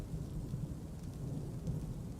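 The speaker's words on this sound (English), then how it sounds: "Oh, that thunder. Listen to that." Low, soft thunder rumbles under faint rain in the Dwarf Fortress game, a brief, distant, muffled roll with no voices.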